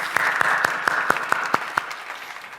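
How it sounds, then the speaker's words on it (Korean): A church congregation at a New Year dawn prayer meeting claps in a slow, even rhythm, about eight distinct loud claps in unison, with a soft hum of the room behind them. "하나님께 영광의 박수 올려드리겠습니다."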